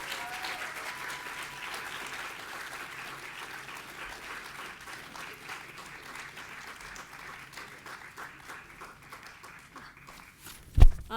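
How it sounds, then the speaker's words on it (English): Audience applause fills an awards ceremony hall, a broad steady clatter of many hands that tapers off near the end before a sharp bump at the close. "a big round of applause, please."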